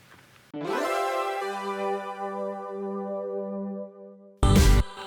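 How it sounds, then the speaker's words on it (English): Bright layered synths swell in with a rising sweep, then settle into a sustained harmonic chord over a low drone, ending with a sudden loud burst. "we have these same synths playing this type of ascending sound."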